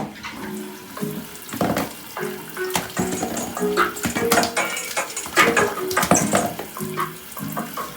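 Shower water pours steadily onto an Altec Baby Boom XL waterproof speaker, a continuous loud splashing and spattering with clattering droplets throughout.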